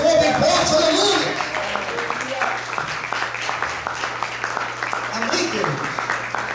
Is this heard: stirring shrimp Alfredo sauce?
no